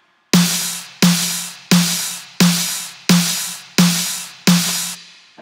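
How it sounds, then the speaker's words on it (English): A clap sample layered with a snare strikes seven times in an even rhythm, each hit sharp and close with a short decaying tail, alone with no voices. "And then I added the clap with it."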